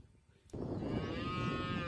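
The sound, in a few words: dairy cows mooing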